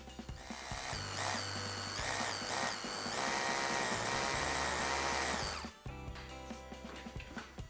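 A power drill bores steadily into a wall for about six seconds, loud and close with a constant whine, then stops abruptly, leaving faint clicks and handling noise.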